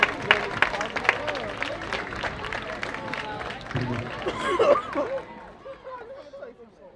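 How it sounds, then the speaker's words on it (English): Spectators at a high school football game between the Flanagan Falcons and Norland Vikings give scattered, loose applause amid crowd chatter and hubbub, swelling briefly before fading out toward the end. "a big round of applause, please, for your Flanagan Falcon sound"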